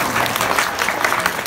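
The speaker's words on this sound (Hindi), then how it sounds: "तो बजती है ना ताली ऐसी बात में?" Brief burst of audience clapping at a school show, dense and fairly close, many hands at once for just over a second.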